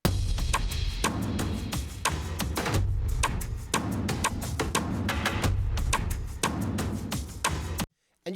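A heavily compressed drum mix with reverb-drenched toms, side drums and a shaker, pumping and dense, with steady rhythmic hits running loud and near for several seconds before cutting off abruptly.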